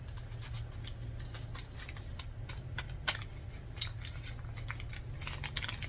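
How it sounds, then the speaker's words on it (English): Scissors snip the corners of paper pages from a 6x6 paper pad for a sewn journal, a steady run of quick, crisp cuts with faint rustling, close and quiet with no voices. "Make sure all my corners are cut."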